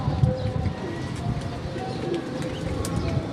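A prized pigeon coos softly in a few short, low calls against a murmur of background noise, fairly close.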